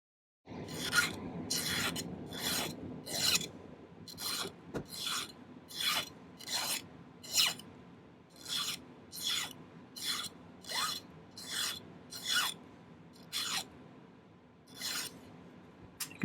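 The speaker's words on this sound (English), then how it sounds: "I think I'm going to do a lot of the tapering by filing it while I'm just holding it this way." Hand filing a silver starfish pendant: a steady series of about twenty rasping file strokes in an even rhythm, close and crisp, each a brief scrape with short gaps between, no talking.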